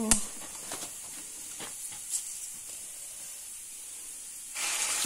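Coriander and cumin sizzle in hot oil in a blackened kadai, a soft steady hiss at close range after a sharp initial crackle, swelling louder near the end.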